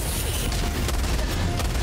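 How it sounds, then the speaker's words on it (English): Artillery barrage in the Helldivers 2 video game on a planet battlefield, a dense, continuous roar of overlapping booms and blasts with no clear gaps, loud throughout. "there's a barrage going on even on the other side"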